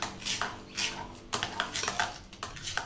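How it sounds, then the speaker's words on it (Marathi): A spoon clinks and scrapes against a bowl while mango pulp is stirred into homemade shrikhand, irregular close taps and soft scrapes at modest volume. "मी थोडा थोडा आमरस घालून हलवून बघणार आहे"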